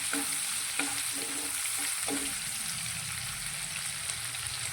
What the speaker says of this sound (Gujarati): ડુંગળીને આપણે થોડી સાંકળી લઈશું